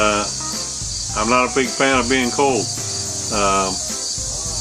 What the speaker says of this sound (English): listening to the cicadas sing at me